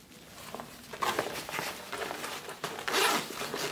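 A zipper runs along a new black school backpack in several rasping pulls, some quick and some longer, loud and close with no talking.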